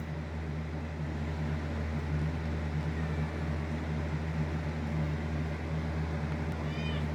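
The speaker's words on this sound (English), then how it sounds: "One of the cats wanted to leave the room." A house cat meows to be let out of a room, its brief cries faint against a steady low indoor hum that runs throughout.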